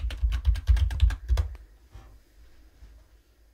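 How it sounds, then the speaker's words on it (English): A password typed on a computer keyboard during a Linux install, a quick close-up burst of about a dozen key clicks over a second and a half, then quiet room tone. "You have to enter your password."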